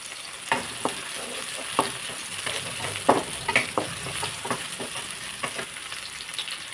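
Green chilies, dry red chilies and cumin fry in a pan, giving a steady close sizzle with scattered pops and spatters throughout.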